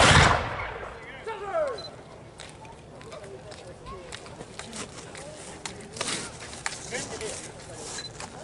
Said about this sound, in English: where they fire and the next group moves up and fires as they advance